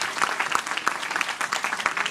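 An audience at a Hindi poetry gathering (kavi sammelan) applauds a judge with brisk, steady clapping from many hands. The applause is moderately loud, continuous and somewhat distant, and lasts a couple of seconds.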